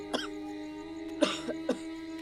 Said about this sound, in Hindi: 3-4 दिनों से खांस रहा है।